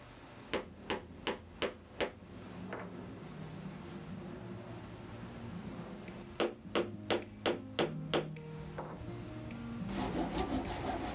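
Sharp hammer blows driving wooden pins into a table's breadboard ends, two quick runs of about five and seven evenly spaced strikes, close by, with scraping and rubbing between them.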